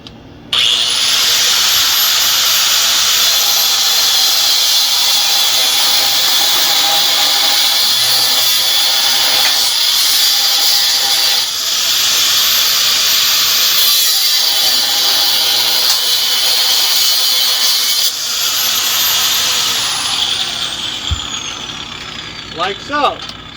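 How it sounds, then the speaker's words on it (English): An angle grinder cuts through a muffler clamp on a 2013 Dodge Charger's exhaust, giving a loud, close, continuous high-pitched whine that holds steady for about twenty seconds with brief dips before winding down. "take an angle grinder and just cut the thing off"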